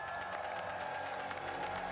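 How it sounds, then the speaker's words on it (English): Arcade-showcase audience at AGDQ 2026 cheering and applauding for a maimai DX PRiSM PLUS player, a steady, dense crowd roar with no clear breaks and no speech. "Please cheer him on for this song"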